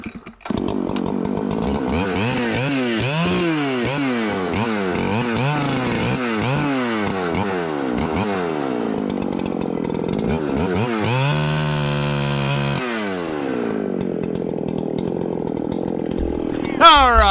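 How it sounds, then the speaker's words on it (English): A chainsaw cuts into a hackberry tree, its engine revving up and down in repeated surges, then holding a high steady whine before dropping off, loud and close throughout. "My chainsaw, that's another hackberry that I'm getting ready to cut."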